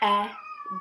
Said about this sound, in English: sorry if you hear my cat meowing in the video